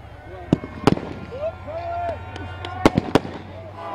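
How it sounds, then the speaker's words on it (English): Fireworks burst at an outdoor speedway celebration for a Premier League play-off final, several sharp cracks and pops spread over a few seconds above a steady low rumble of crowd and rides, with faint voices in the background. "we've got some fireworks going off as well behind."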